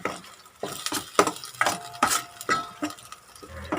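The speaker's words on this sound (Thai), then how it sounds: "จะใส่น้ำพริกแกงแดงที่ตำเองนะคะลงไปผสมนิดนึง" A utensil stirs homemade, hand-pounded red curry paste in a pot over heat, giving a steady run of close scraping strokes roughly every half second, with faint sizzling underneath.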